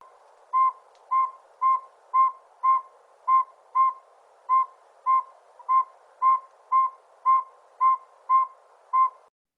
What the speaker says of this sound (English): I'm going to add in a car alarm sound.